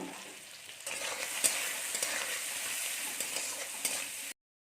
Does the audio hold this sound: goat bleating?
no